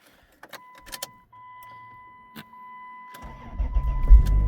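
A Chrysler Grand Voyager minivan with a fuel leak, parked in a March blizzard, gives a few clicks and a faint hum before its engine cranks and fires right up into a loud, rough idle close by.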